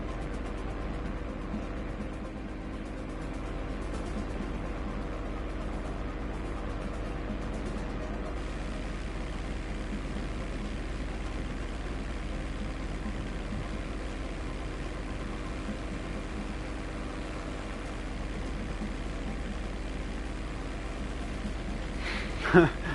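Low, steady engine drone of an airplane in GTA 5 Online runs quietly under someone talking, with one short sharp sound near the end.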